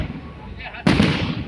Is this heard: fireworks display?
yes